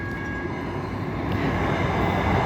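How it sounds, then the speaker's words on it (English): A train rumbles steadily at a railway junction station in India, a loud continuous roar of wheels and carriages that builds slightly, with no talking. "This is the train again."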